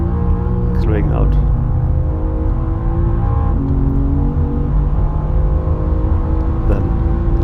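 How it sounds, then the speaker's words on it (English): BMW M4 CSL pulling hard in 3rd gear out of a corner on the Nordschleife, with a loud in-car engine note rising steadily in pitch under a voice. "For the exit, I'm using the 3rd gear, accelerating out."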